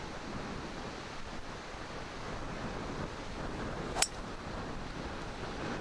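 Steady roaring wind buffets the microphone throughout on a golf course during a tournament, with one sharp brief click near the end.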